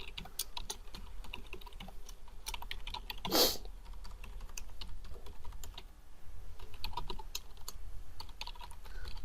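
Steady typing on a computer keyboard while a name and address are entered into a web form, a continuous run of small key clicks with one brief louder burst partway through, no talk.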